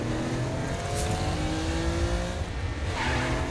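A car driven through Hell in the Saints Row Gat Out of Hell video game, a loud, steady engine drone with shifting revs that continues without a break.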